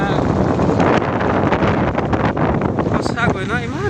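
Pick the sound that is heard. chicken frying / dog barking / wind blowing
wind blowing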